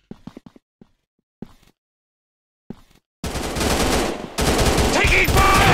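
Sustained machine gun fire from the FPS shooter Commando Gun Strike Ops erupts loud and dense after a few brief short bursts of game sounds, with a short break before the rapid firing resumes.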